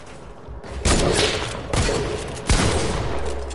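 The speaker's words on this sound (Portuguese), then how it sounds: "¡Bomba!" Explosions from a bomb in Fortnite, three loud broadband blasts roughly a second apart, each with a sharp onset and a rumbling tail, with no talk over them.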